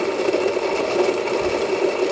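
A Baratza Virtuoso burr grinder grinding coffee beans on a coarse setting, giving a steady, close mechanical whir and buzz with a faint rattle, running continuously and evenly with no talk.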